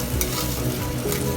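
Soaked rice for Bengali pulao fries lightly in a pan over low heat, giving a steady close sizzle with soft stirring and no voices.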